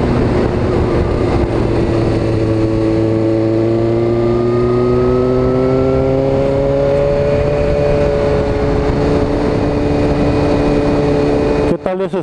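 A vehicle with a newly installed aftermarket exhaust roars up close on a winding secondary road near Milpillas, its engine note climbing steadily through the revs, then cutting off with a sharp clatter at the end.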